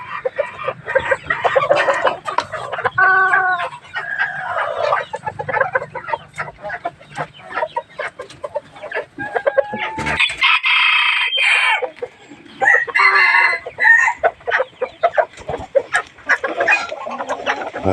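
Bantam chickens at a farm in the evening cluck and chatter nearby while a rooster crows clearly partway through, amid scattered scratching and other bird calls.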